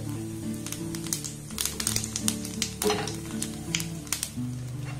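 Dried chili and black cumin sizzling in a little hot mustard oil, a close crackling hiss with irregular sharp pops and spits over a steady frying bed.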